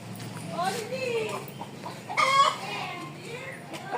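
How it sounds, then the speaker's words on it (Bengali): Chickens at a chicken farm cluck repeatedly in the near distance, with one rooster call rising briefly, while a person talks over them. "ওই যে ওই সাইডে আমার বড় মামার ছেলে চন্দনের মুরগির খামার।"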